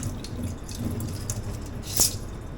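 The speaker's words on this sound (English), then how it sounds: "Then I'm going to strain all the water out of them" Water strained out of rinsed seashells trickles and drips close by in a soft continuous patter, with one brighter splash near the end.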